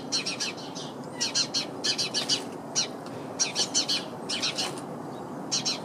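A small bird trapped inside a damaged bird feeder gives repeated bright chirps in quick irregular bursts over a steady outdoor hiss, with a cat nearby.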